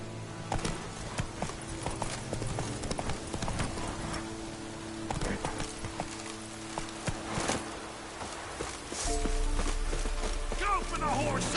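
Geralt's horse Roach galloping in The Witcher 3 on PS5, quick hoofbeats clattering under game sounds and character voices, with scattered impacts and a shift to a louder rumble near the end.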